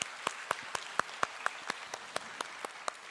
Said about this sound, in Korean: 우리 수고한 모두 드라마 팀에게 다시 한번 박수 부탁드리겠습니다